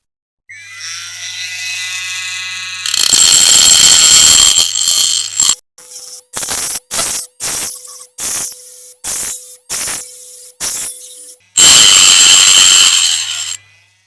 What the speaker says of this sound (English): I'm just gonna flatten them back with this multi-tool